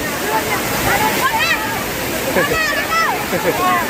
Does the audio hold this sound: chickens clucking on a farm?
no